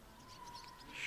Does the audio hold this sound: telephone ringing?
no